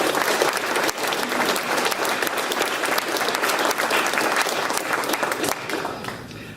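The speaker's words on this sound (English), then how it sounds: "if we could give a round of applause for Todd, even though he's not here." Dense, sustained applause from a crowd at a TSA awards ceremony, loud and steady throughout, tapering slightly at the end.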